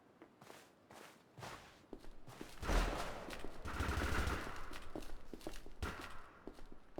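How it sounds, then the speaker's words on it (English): Burst-fire weapon shots go off in the video game ADACA as sharp, quiet clusters of reports, mixed with rumbling blasts and scattered footstep-like clicks across the seven seconds. "It's burst fire, and the secondary fire, rather than being like a shotgun pulse blast, it's more like a concussion rifle shot."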